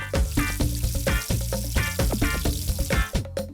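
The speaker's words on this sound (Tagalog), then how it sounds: "Igigisa muna ang luya, bawang at sibuyas." Ginger, garlic and onion sauté in a pan for a tilapia dish from Calumpit, Bulacan, giving a close, steady sizzle with crackles and stirring, alone without talk.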